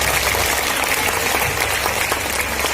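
A church congregation claps loudly and steadily, a dense, continuous wall of applause with no voices standing out above it.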